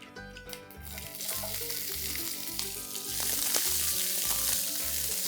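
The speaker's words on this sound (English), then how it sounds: "I'm going to add in 1 shredded onion." Shredded onion hitting hot oil with spluttering cumin seeds, sizzling loudly and steadily up close. The frying swells stronger toward the end, with faint stirring clinks underneath.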